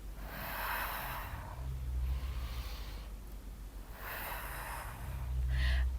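Deep breathing during a gentle postpartum fitball workout, with slow rhythmic inhales and exhales repeating in soft, close breaths, and a low hum underneath.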